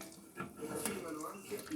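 Water poured from a tap into polenta flour pizza dough, a faint, close trickle and splash that runs briefly under quiet talking in a kitchen.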